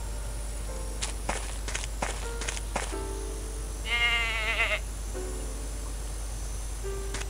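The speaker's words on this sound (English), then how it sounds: "Oh look, another goat." A goat in the video game And Then There Were None lets out one short, wavering bleat over a quiet bed of insect chirps, surrounded by scattered footstep-like taps.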